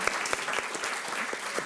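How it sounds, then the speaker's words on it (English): Brief applause from the audience at a science writing panel discussion, a short burst of scattered, distinct claps at moderate level with no one speaking. "Could you please give a round of applause to our panel?"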